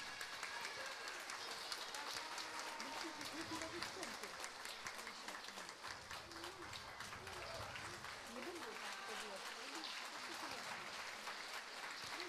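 An audience at a dance show in a Płońsk cultural centre applauds steadily with dense, sustained clapping, heard at a distance with faint crowd murmur.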